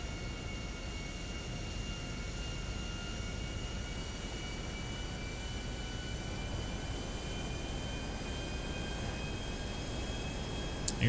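A steady, loud airliner engine roar runs unbroken during a takeoff roll on runway 26 right in GTA 5, with constant broadband rumble and faint tonal whine, no talk over it.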